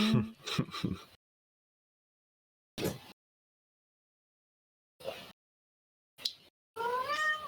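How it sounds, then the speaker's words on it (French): Several loud cat meows in the video game Remnant: From The Ashes, separated by silent gaps, the last one a long, drawn-out wail. "ça miaoute fort"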